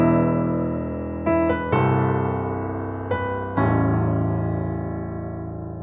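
A rearranged Avengers theme from Marvel's What If? rings out in rich sustained chords, punctuated by a few sharp accented hits that decay slowly, with no speech present.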